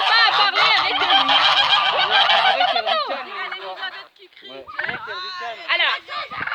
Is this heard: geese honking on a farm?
yes